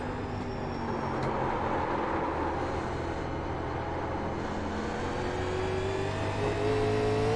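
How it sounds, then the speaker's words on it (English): A 1987 Chevrolet Monte Carlo NASCAR stock car in iRacing drones steadily through a lap at North Wilkesboro Speedway, its engine roar loud and constant with a slight rise in pitch toward the end. "That's the lap around North Wilkesboro Speedway in the 87 Monte Carlo."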